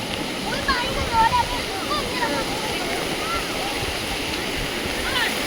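Water rushing and splashing at a river ghat, a steady close broadband roar that runs through the whole stretch with voices in the background.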